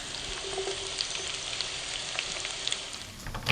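Potatoes with chopped Vidalia onion fry in a pan, a soft steady sizzle and crackle with scattered pops, moderately close and without speech.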